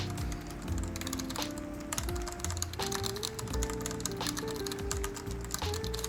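Rapid clattery typing on a Redragon Kumara mechanical keyboard fitted with Akko CS switches, with dense, irregular key clicks and taps in continuous bursts, close up and alone.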